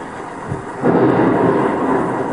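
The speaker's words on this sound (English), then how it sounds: "There's thunder." Thunder in a video game, a loud deep rumble that rolls in and sustains, with a steady background wash underneath and no speech.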